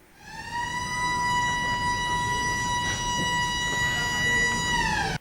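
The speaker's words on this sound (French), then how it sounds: "Au son de la sirène," A loud, steady wailing siren signalling the start of exams holds one sustained pitch for several seconds, then drops off as it winds down and cuts out.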